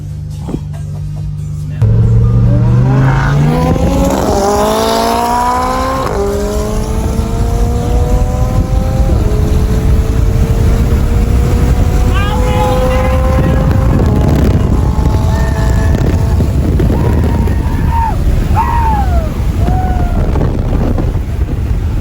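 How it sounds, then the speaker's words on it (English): A twin turbo Lamborghini accelerates hard at speed, its engine note climbing steadily through the gears with a loud, close roar and strong wind rush, continuous throughout with no talking. "Oh, man, that Lambo is fast."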